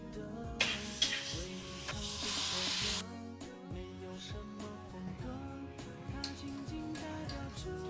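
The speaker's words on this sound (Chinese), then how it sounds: "肉末煸炒一下，放入西红柿，炒出汤汁" Minced pork and tomatoes hit a hot wok and sizzle loudly for a couple of seconds, then the frying fades under background music that plays throughout.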